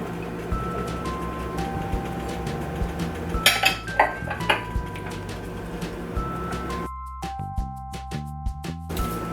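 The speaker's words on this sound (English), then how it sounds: "we are going to add our cubed up sweet potato now" Cubed sweet potato tumbles into a simmering curry pot, with a burst of clattering thuds and clinks from pan and utensils midway, over steady kitchen background hum and a soft bubbling.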